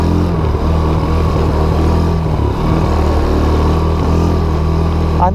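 A Baja Wilderness 90 mini bike engine, geared down in second with a slipping clutch, revs loud and close in a steady, unbroken drone with no voices.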